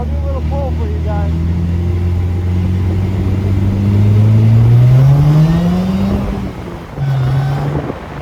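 A DF Goblin kit car accelerates hard through the gears, its engine note climbing steadily and loudly up close, with a brief dip at a shift before pulling again; a voice speaks faintly at the start.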